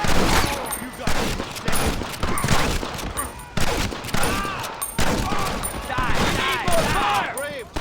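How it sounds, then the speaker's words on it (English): Rapid Gatling gun fire in the Red Dead Redemption video game, loud bursts of repeated shots and ricochet-like whines over several seconds, with voices shouting between the bursts. "Fire! The Gatling gun, use it!"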